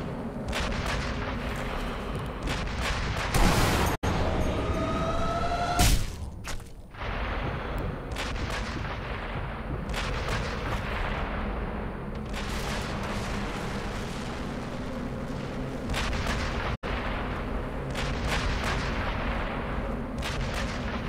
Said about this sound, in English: That is a heck of a lot of explosion